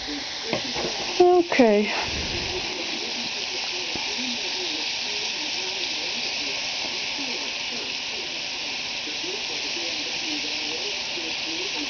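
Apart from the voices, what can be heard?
bacon frying in a pan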